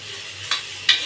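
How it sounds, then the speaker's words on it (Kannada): Onion and mint are stir-fried in a pan, a soft steady sizzle with two quick scraping strokes of the spatula, close and without voices. "ಈರುಳ್ಳಿ ನೋಡಿ ಕೆಂಪಗಾಗಬೇಕು, ಸ್ವಲ್ಪ ಚೆನ್ನಾಗಿ ಫ್ರೈ ಮಾಡ್ಕೋಬೇಕು"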